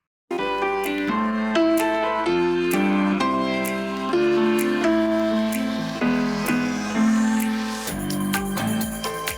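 A keys piano part after effects and editing plays full chords with a melody on top. It sounds brighter and wider, with a sustained rising sweep and a burst of texture near the end.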